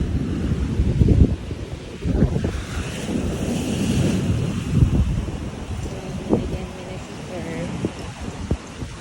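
Surf and gusting wind on a beach at a weekend beach campsite, a steady broadband wash with rolling swells and microphone buffeting, with faint voices and clatter underneath.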